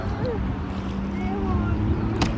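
A motorboat engine drones steadily in the background on the Neretva river, heard from a kayak, with wind and water noise, a low continuous hum throughout.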